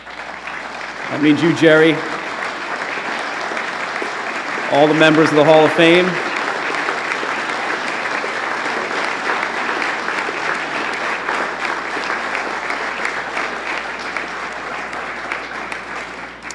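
Sustained crowd applause acknowledging the members of the Hall of Fame at the 2006 NPAAA induction ceremony, a steady mid-level clapping that runs the whole span while someone speaks over it on a microphone.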